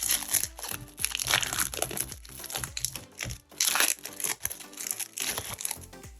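Pokémon card booster packs torn open and unwrapped by hand, with continuous crinkling and crumpling of foil wrappers in close, busy bursts and a short lull midway.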